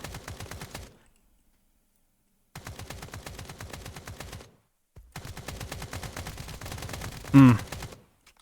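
Gunfire from an enemy boss in the video game Escape From Duckov: rapid automatic bursts in three volleys separated by silent gaps, loud and close, with a sharp louder hit near the end.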